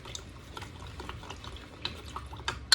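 Spoon stirring a garlic sauce with flour dissolved in it, soft continuous scraping and liquid swishing close by, quiet with a few slightly sharper clinks.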